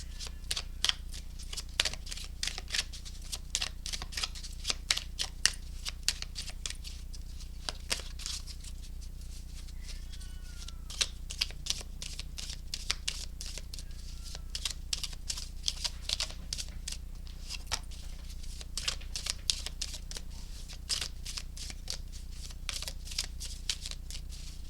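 Tarot cards being shuffled for a pick-a-card reading, a rapid, crisp riffling patter that runs continuously and close up, with faint background hum and no talking.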